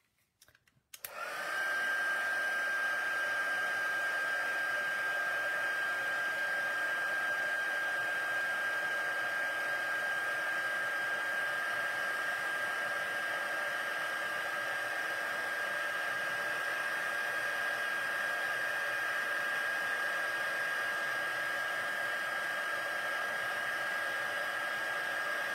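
Heat tool or hair-dryer-style blower runs continuously to dry shiny embossed lines on a wedding card, switching on abruptly after a brief click and holding a loud, steady whooshing hum with a faint whine, with no talk.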